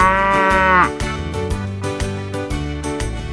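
A single drawn-out ox moo opens, then gives way to bouncy, steadily pulsing children's color-song music.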